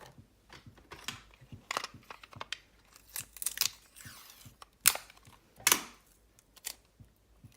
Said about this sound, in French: je vais mettre un petit bout de scotch.